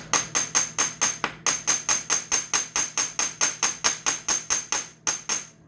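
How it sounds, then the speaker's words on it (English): A small hammer striking a metal machine part to drive it back into its slot, a rapid steady series of about twenty-five sharp ringing taps close to the microphone, with a couple of brief pauses, no talking. "take a couple of these small hammers. I'm going to start with the little one first"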